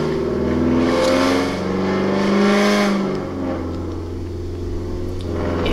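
A black Toyota Corolla fitted with an exhaust gear-shift simulation revs hard, its loud, throaty exhaust note rising and falling continuously and close by, with no talk over it.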